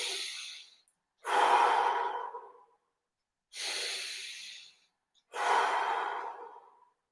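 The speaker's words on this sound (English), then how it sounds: "deep breaths." Slow, deep breaths during an exercise session: two full inhale-exhale cycles, each a loud, close airy rush separated by short quiet gaps, with no talking.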